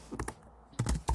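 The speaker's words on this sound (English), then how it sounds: "Now bear with me guys, my typing is a bit slow." Someone types slowly on a computer keyboard with a handful of soft, close key clicks in small clusters, separated by a brief pause, with no talking.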